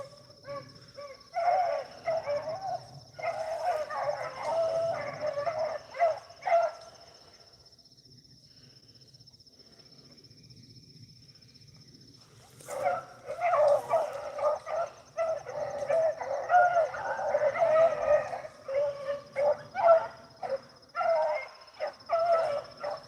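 Beagle hounds bay on a rabbit chase in the brush, heard as two long stretches of distant, overlapping yelping bays separated by a quiet gap, over a constant high chirring of insects.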